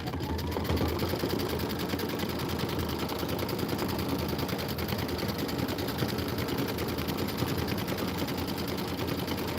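A quilting sewing machine stitches at 600 stitches per minute, a rapid, even mechanical chatter running steadily and fairly loud throughout, with no talk over it.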